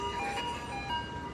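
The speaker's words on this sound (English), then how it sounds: "There's an ice cream truck somewhere nearby." An ice cream truck somewhere nearby plays its tinkling melodic jingle, a brief, faint tune heard from a distance over outdoor background noise.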